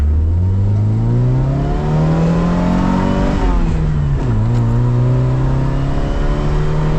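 An abandoned Toyota AE86 engine revs up close and loud, rising in pitch then sinking back slowly with noticeable rev hang, its steady drone filling the whole stretch.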